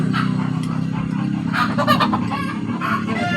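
A hen that has just laid an egg clucks repeatedly close by, short throaty calls with a steady low hum of farmyard noise underneath.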